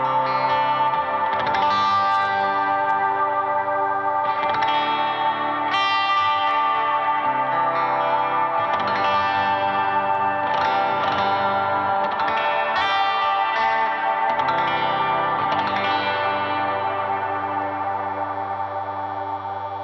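An electric guitar run through a Strymon BlueSky v2 or GFI Systems Skylar reverb pedal on a hangar setting, playing sustained chords and notes inside a wide, roomy wash that lingers continuously, loud and alone with no voices.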